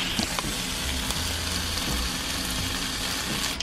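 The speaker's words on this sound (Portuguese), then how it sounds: "já comecei a fritar o bacon que eu vou usar aqui na frigideira do lado vai fritar na gordura dele mesmo" Bacon frying in its own rendered fat in a skillet gives a steady, close crackling sizzle that runs unbroken the whole time, with small pops scattered through it.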